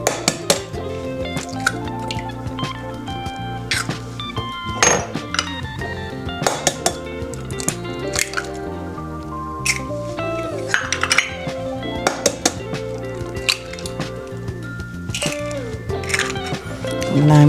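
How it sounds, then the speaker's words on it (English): Three eggs are cracked into a bowl in a kitchen, with sharp cracks, clinks against the bowl and small dripping sounds scattered close by over the whole stretch. "the next thing I'm going to do is to crack my 3 eggs"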